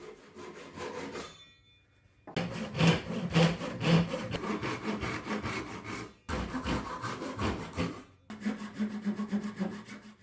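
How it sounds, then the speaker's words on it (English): A hand saw cuts through walnut scrap for knife scales in rapid back-and-forth rasping strokes, a short burst followed by longer runs broken by brief pauses, close and clear. "removed the excess material with a pole saw"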